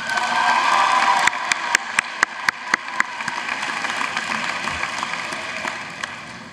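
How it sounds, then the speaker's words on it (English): Scattered clapping at a university orientation convocation as counselors are named, a handful of sharp claps over a hall's broad murmur, then fading. "You are allowed to clap for other neighborhoods"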